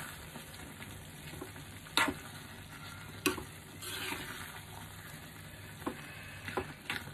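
Eggs sizzle and fry in gongura egg curry as a spoon stirs them, a steady low hiss broken by a few sharp scraping knocks against the pan.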